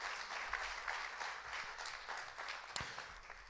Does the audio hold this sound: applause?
yes